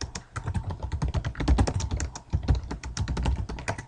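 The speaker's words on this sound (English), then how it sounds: "type that in, and it'll say it's done." Rapid, steady typing on a computer keyboard, close and clear, dense clicking keystrokes for several seconds during a Windows setup task.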